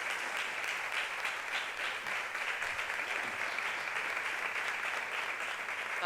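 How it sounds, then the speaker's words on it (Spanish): An audience at an International Women's Day event claps in sustained, even applause that holds for several seconds at a steady level. "Ahora sí que se ha llevado su merecido aplauso."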